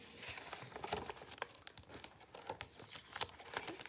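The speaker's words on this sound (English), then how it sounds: "I'm gonna tuck the edges of my tape just down around the inside here" Tape pressed and tucked around the inner edges of paper lantern panels on a pressed-flower luminary, soft close crinkling and rustling in irregular short bursts, faint and with no talk.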